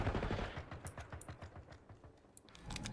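Rapid automatic gunfire from a Call of Duty match bursts in quick repeated volleys, moderately loud, with a few sharper single shots near the end and no talk.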